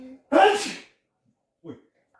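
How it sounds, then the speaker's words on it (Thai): A single loud sneeze bursts out close by, followed by a short breathy sound a moment later in an otherwise quiet room. "เสียงจามเฮงขนาดเลยค่ะ"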